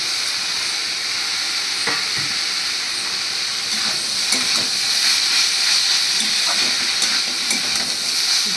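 Roasted Gobindobhog rice is added to a pan and sizzles steadily in hot fat, a continuous bright frying hiss with occasional soft stirring clicks, close and alone.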